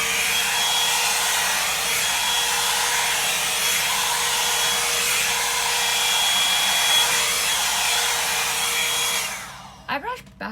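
A Revlon Salon One-Step hair dryer and volumizer runs with a steady, loud whooshing blower hum for about nine seconds, then switches off, leaving a few faint handling knocks.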